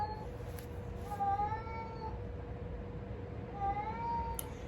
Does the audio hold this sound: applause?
no